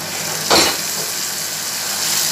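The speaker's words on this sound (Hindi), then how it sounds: "अब ये मैं 3 अदर टमाटर चॉप करके इसमें डाल रही हूँ।" Chopped tomatoes drop into a hot pan for dhaba-style dal mash, a sudden loud burst of sizzling that settles into a steady frying hiss.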